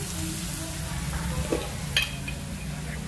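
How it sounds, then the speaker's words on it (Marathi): Onion frying in a pan for prawn masala gravy, a soft steady sizzle with a brief utensil clink and scrape partway through, heard alone without talk. "कांदा लवकर फ्राय होण्यासाठी त्यामध्ये आपण"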